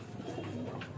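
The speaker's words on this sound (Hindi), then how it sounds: "ये पूरा आंध्रा का कबूतर है।" A single Andhra red-headed pigeon gives a soft, low coo, faint and brief against a quiet background.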